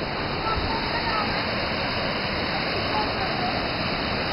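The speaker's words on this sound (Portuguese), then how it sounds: "Uma cachoeira excelente para criança, não tem perigo nenhum." Waterfall beside a trail at São Thomé das Letras, a shallow cascade, roaring as steady dense broadband water noise close by, unbroken for the whole stretch with no voices over it.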